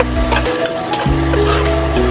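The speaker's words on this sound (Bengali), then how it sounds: "এই তো আমার মশলাটাকে ভেজে নিলাম" Spices sizzling and frying in a hot pan, a constant hiss with a steady low hum running underneath.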